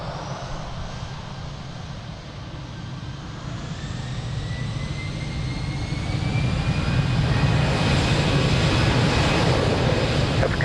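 An airliner on its takeoff run from runway 02 at Lisbon Airport, a broad jet roar that swells steadily louder with a rising high whine as it gains speed, no voices present.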